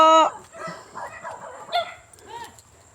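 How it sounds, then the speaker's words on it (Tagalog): Several dogs barking near houses beside a forest, a loud close bark at the start followed by quieter yips and barks in an uneven rhythm, with a voice briefly heard. "Ang dami aso."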